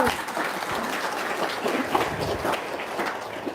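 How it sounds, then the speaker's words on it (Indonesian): An audience at an Indonesian business seminar claps in a sustained, fairly even round of applause, with scattered louder claps and some crowd murmur mixed in. "Tepuk tangan dong."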